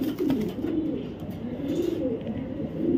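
A club racing pigeon with a GRP series ring coos in soft, repeated rolling phrases, close and continuous, over a faint background hum.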